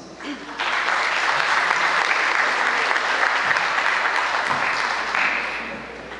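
A crowd applauds to welcome a congresswoman at a decentralized public hearing in Peru, the clapping swelling in after a brief pause into a full, steady wash of many hands before gradually tapering off.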